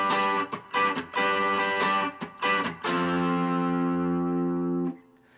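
An electric guitar strums the two-bar rhythm of a song: a run of short, choppy chord hits followed by one sustained chord that rings out for about two seconds before stopping, played alone.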